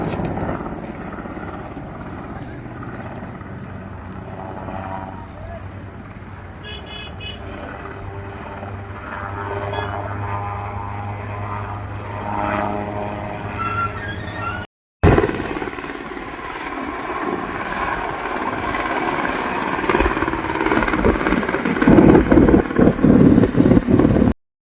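An Indian Army helicopter comes in to land at a mountain helipad, its rotor and engine droning loudly and continuously, with wind buffeting the microphone and the noise growing rougher and louder toward the end.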